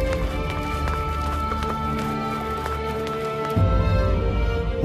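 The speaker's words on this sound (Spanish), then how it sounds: "Son sonidos de hombres a caballo, dentro del palacio, acercándose." Horses ridden by men approaching indoors within a palace, a steady rumbling run of hooves with scattered clip-clop beats under a low hum, growing heavier and closer near the end.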